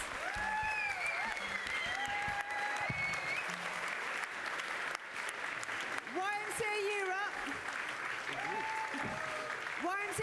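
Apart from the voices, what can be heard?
audience applause at final ceremony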